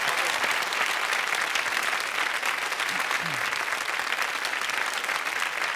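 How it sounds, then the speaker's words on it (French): Dense, continuous audience applause for Jean Anglade in a French television studio, a loud even roar of many hands clapping throughout. "Bravo Jean Anglade, qu'on peut applaudir encore pour sa gentillesse"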